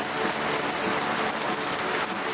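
Heavy rain pours steadily and loudly, a dense unbroken hiss close by with no voices.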